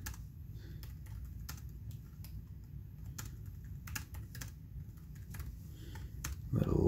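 Small keys of a GPD P2 Max compact laptop clatter in irregular bursts of typing, close and fairly quiet over a low background rumble, ending with a louder muffled bump.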